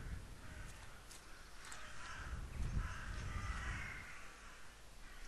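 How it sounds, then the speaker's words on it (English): Crows caw repeatedly in The Last Door video game, several harsh calls in an uneven series over a low rumbling ambient bed, moderately distant and without talk. "That's the birds."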